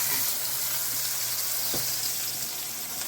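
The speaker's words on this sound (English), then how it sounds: "we're going to sear it on this side too. We're going to sear it on all sides." Lamb chops searing in a hot pan make a loud, steady sizzle and crackle up close, with one brief low thump partway through and no voices.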